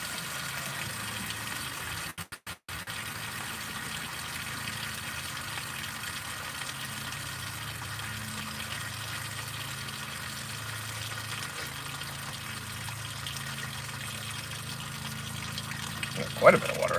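Water gushes and drains steadily from travel trailer plumbing during winterizing, a continuous low wash of liquid heard up close for the whole stretch, with a brief dropout early on and a small knock near the end.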